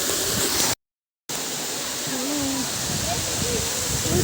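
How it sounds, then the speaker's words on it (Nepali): A waterfall on a nature outing pours as a steady, loud broadband rush, broken by a brief gap of silence before it resumes with the same even roar. "झरना यो"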